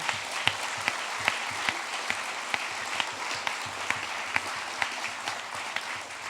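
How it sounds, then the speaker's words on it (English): Applause for the teachers at a middle school closing ceremony in 2025, a moderately sized audience clapping steadily with a few sharper individual claps standing out, fairly even from start to finish. "So let's have a round of applause for them."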